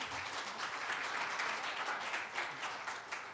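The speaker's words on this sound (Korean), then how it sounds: "요들송 팀 홀라예이들을 큰 박수로 환영해 주시기 바랍니다" A council-chamber audience in Ansan claps steadily to welcome a university yodel team, a soft, even wash of many hands lasting a few seconds without pause.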